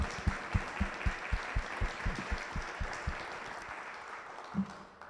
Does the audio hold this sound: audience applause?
yes